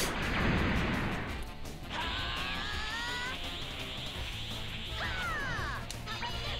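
A Volleyball attack special move in Dragon Ball Z Budokai Tenkaichi: a loud opening burst with crashing impacts, then whooshing energy streaks with rising tones that return near the end, over a steady busy game background and no talk.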